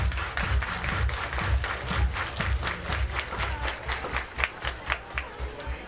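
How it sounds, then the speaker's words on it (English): Crowd at a high school or amateur baseball game claps in a steady rhythm of sharp, evenly spaced hand claps, moderately close and loud, with ballpark murmur underneath. "Everybody clap your hands."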